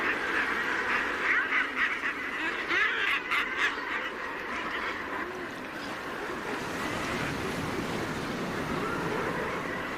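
A Shetland seabird colony raises a dense, continuous chorus of harsh, quarrelsome courtship calls, with many birds squawking and overlapping at close range over a steady background wash.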